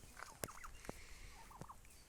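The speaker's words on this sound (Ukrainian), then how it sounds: "Індики" Turkeys about 4–5 kg each, kept for sale, give a few short warbling calls and clucks with sharp knocks in between, fairly near and quiet.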